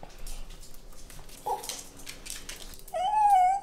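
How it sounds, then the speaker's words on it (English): A pet dog whimpers and cries close up indoors, a short squeak first, then a longer, rising high-pitched whine. "hear his cries and heavy breathing very close up"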